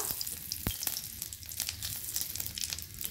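Cumin seeds and two dried red chillies sizzle steadily in leftover fish-frying oil in a kadai, a continuous close crackling hiss with scattered pops and one sharp tap, no voices.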